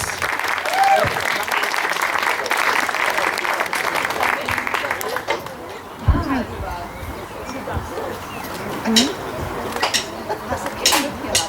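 A concert audience applauds with dense, continuous clapping that fades somewhat midway, while a voice talks over it and a few sharp claps and knocks stand out.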